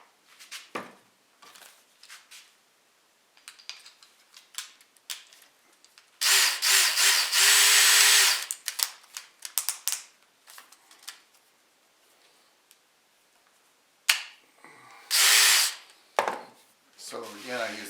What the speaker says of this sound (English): I need to sand the inside and then the outside, and I'm gonna use a 120 flat disc on it.